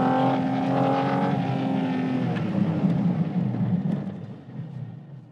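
Porsche Cayman GT4 RS flat-six revving hard in second gear on a track, loud and close, with a rising harmonic whine that swells and then eases toward the end.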